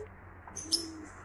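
A bird gives a brief soft call at Dolphin Cove in Jamaica, heard once over low outdoor background noise.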